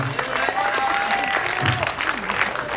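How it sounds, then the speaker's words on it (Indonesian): An audience at a film press conference gives sustained applause, dense and even, with some cheering and voices mixed into the clapping. "tepuk tangan lagi sekali buat Ibu Saikona."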